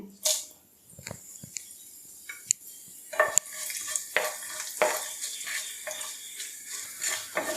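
Dried red chillies crackle and fry in hot oil in a pan while cooking mushroom chukka, with sharp sizzling bursts and occasional clinks of a spatula stirring against the metal.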